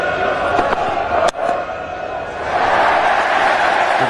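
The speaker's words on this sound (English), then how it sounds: "Huge cheers" A large cricket crowd at an Ashes match roars and cheers in a sustained wash of noise that swells louder toward the end, with a brief sharp crack early on and a commentator talking over it.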